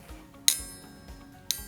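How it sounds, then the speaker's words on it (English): A metal coat hanger tapped lightly twice, each strike a sharp bright clink about a second apart with a faint ringing decay, over a low steady hum. "So when we tap the coat hanger,"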